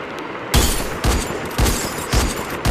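Gunfire in a battle royale video game, four loud, booming shots spaced roughly half a second apart, each with a heavy low thump and a trailing rumble, heard close with no talking.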